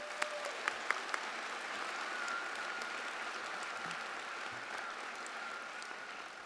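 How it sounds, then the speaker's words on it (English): An audience at a law school spring convocation applauds, a sustained, even wash of many hands clapping at a distance, with a few sharper claps standing out at the start. "Let's give them all a round of applause."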